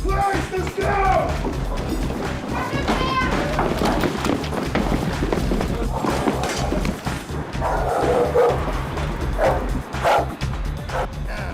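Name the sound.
dog barking during police drug raid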